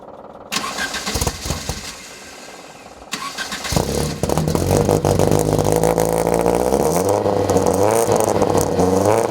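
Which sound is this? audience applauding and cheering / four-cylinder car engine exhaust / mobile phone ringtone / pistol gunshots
four-cylinder car engine exhaust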